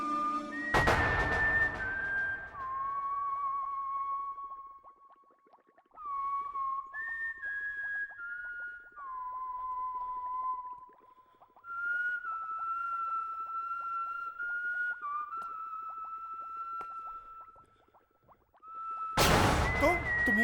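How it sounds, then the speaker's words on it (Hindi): A person blows a whistle in a long series of clear, sustained tones at shifting pitches, loud and close, with brief louder bursts of noise at the start and end. "तुम ये सीटी क्यों बजा रहे हो?"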